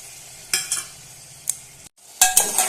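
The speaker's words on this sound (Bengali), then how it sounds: "আবারও ভালোভাবে একটু কষিয়ে নিচ্ছি" Spices frying in a pan with a splash of lentil water, stirred in short scraping bursts with a soft sizzle beneath and a brief pause before a louder stir.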